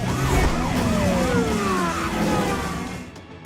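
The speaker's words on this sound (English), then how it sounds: "cops hot on their tail with sirens blaring" Police car sirens wail through a film car chase, their rising and falling tones sweeping loudly over traffic and engine noise before easing off at the end.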